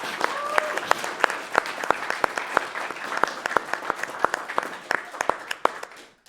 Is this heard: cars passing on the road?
no